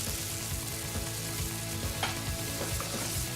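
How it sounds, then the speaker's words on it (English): Chicken masala simmering in chicken stock in a frying pan, giving a steady close bubbling sizzle throughout with faint clinks. "Bring that up to the boil and let it simmer for 3 to 4 minutes."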